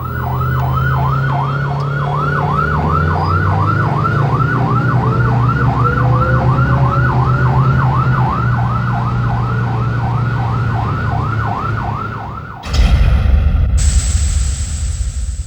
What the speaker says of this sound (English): The Siren is the more American-style warbler